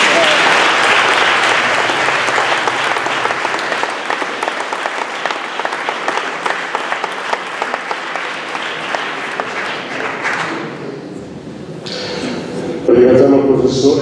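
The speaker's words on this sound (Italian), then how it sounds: "L'applauso che ci ha appena stato è la testimonianza migliore della stima e della sincerità della sua testimonianza" Audience applauds a professor at an Italian public conference, dense sustained clapping from a large crowd for about ten seconds, then thinning out, followed by brief rustling and a voice.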